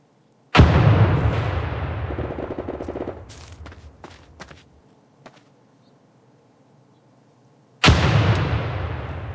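Two loud M67 fragmentation grenade blasts in the video game America's Army 3, each a sharp boom with a long rumbling decay, separated by several seconds of fading echoes and quiet.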